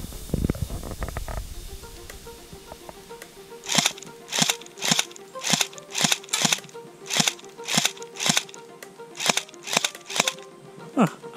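An airsoft gun fires BBs during an outdoor skirmish, sending out a steady series of sharp, snappy shots roughly every half second after a short stretch of low rumbling noise.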